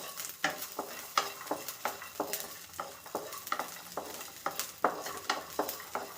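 Garlic fries in a pan for radish chutney, with a steady sizzle and repeated scraping strokes from a stirring spoon, close and fairly loud, with no talking.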